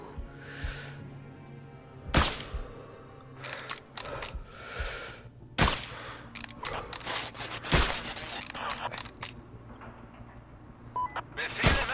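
Gunshots and mortar fire in the Sniper Ghost Warrior 3 video game sound as sharp, broadband cracks and heavier booms spaced a second or two apart, loud over a quiet ambient background with faint game noises.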